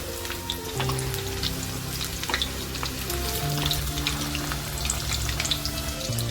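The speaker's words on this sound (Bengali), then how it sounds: "এক পিঠ উল্টে দিয়ে এগুলো ভাজা, একটা দিক ভাজা হয়ে গেছে।" Chicken pieces frying in hot oil, a steady loud sizzle with scattered crackles and pops, continuous and close, with no talking.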